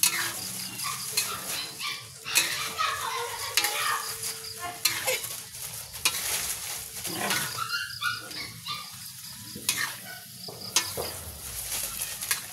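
Buttered shrimp sizzle steadily in a pan while being stirred, with scraping utensil strokes over the frying hiss and a few background voices and animal-like noises in a home kitchen.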